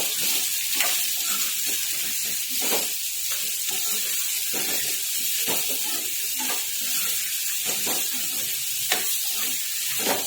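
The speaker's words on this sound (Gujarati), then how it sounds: "હવે એમાં એક ચમચી મીઠું એડ કરીશું અને થોડી હળદર એડ કરીશું મિક્સ કરી લઈશું" Raw mango vaghariyu fries in a pan as salt and turmeric are stirred in, giving a constant close sizzle broken by regular scraping stirs of the spoon, with no talking.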